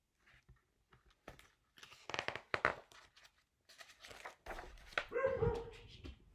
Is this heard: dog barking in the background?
yes